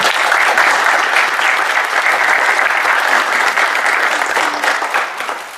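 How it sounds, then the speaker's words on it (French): A crowd at a Paris tournament applauds Titi loudly and steadily, a dense wash of clapping that holds for several seconds before easing slightly at the end. "si on peut tous applaudir Titi très très fort."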